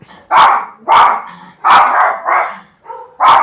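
A dog barks six times in quick succession, loud and close, each bark a sharp separate burst with short gaps between them and no other sound around.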